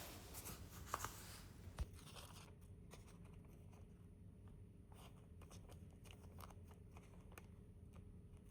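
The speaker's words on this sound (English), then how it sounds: "while I am cutting this out of another rice paper" Scissors snip through thin rice paper in quiet, close crisp cuts, a couple of sharper clips early on followed by soft, sparse rustling.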